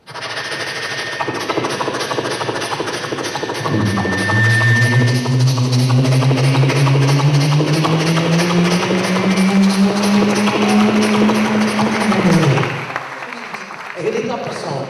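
A voice imitates a train, a car and a horse in one continuous performance, loud and close. Rising and falling engine-like hums and rhythmic clatter run for about ten seconds before trailing off.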